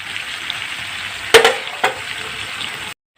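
Pork frying in a pan for an Assamese-style pork fry gives a steady, even sizzle. Two sharper crackles or stirring bursts stand out partway through, and the sound cuts off abruptly near the end.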